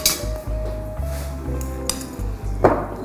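A fork mixing tabbouleh in a bowl makes repeated light clinks and scrapes against the dish in a loose, steady stirring rhythm, close up with no talk.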